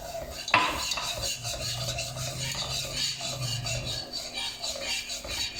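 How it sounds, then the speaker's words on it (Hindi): A spoon scrapes and stirs sugar into milk in a pan over a medium flame for sheer khurma, with steady rasping strokes and one sharp clink at the start, close and fairly quiet. "अच्छी तरह मिक्स करते रहेंगे ताकि जो दाना है चीनी का ख़त्म हो जाए"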